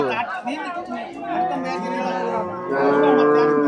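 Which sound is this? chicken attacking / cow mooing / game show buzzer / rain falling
cow mooing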